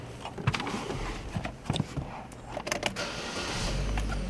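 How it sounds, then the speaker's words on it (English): Chevrolet Cruze LS with about 27,000 miles starting up, a brief starter crank and catch settling into a low, steady idle, fairly quiet, with no talking. "Start it up, starts up real quickly."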